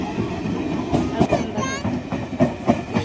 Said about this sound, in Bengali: এই যে ট্রেন ঢুকে গেল, আপ ট্রেন।